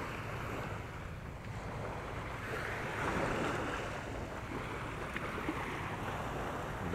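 Sea surf off the coast of Cavite with fishing boats nearby, heard as a steady, broad wash of waves and wind noise across the whole stretch, swelling slightly midway, with no talking.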